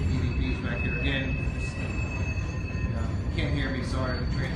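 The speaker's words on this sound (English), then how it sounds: "can't hear me, sorry, the train's going by" A train rolls past on tracks right beside a former rail depot, a steady, loud rumble with wheel and rail noise filling the whole stretch, and a voice talks over it.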